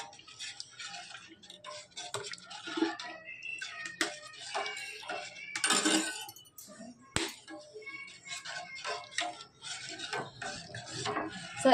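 A spoon stirs yogurt kadhi in a pot, making soft, intermittent scraping and ticking contacts against the vessel at close range.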